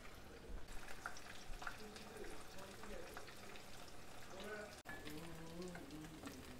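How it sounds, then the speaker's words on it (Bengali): Malabar spinach (pui shaak) pakoras frying in hot oil, giving a steady close sizzle and crackle throughout, with a brief dip near the end. "মুচমুচে করে ভাজতে হবে।"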